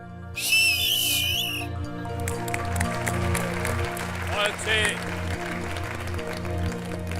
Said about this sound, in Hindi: इनके लिए सबकी तरफ से एक सीटी तो बनती है इसके लिए